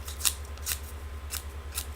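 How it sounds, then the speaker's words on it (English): Scissors, also used for beard trimming, snip through paper in four quick, crisp cuts spaced roughly half a second apart, close and clear over a low steady hum, with no talking. "You can just cut paper"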